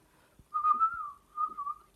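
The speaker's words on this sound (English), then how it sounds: "Can't whistle either." A single person whistles a short, slightly wavering two-phrase tune, close and fairly quiet, with a brief gap between phrases and no talking.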